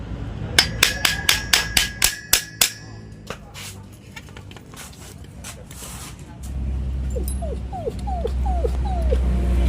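A puppy whines in a car repair shop: a quick run of sharp metallic taps comes first, then five short rising whimpers close by over a steady engine hum.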